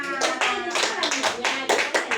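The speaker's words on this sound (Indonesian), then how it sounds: "jangan lupa kita kasih tepuk tangan sama Abro ya" A class of schoolchildren claps hands together in a quick uneven burst of separate claps, close and fairly loud, with voices mixed in.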